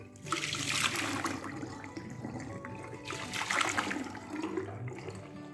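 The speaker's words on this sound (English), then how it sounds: "I'm going to pour some boiling water down the drain" Boiling water pours and gurgles down a bathroom drain in two rushing bursts, with trickling and splashing in between, heard up close.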